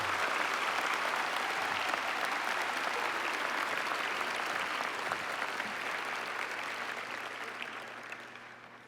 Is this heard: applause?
yes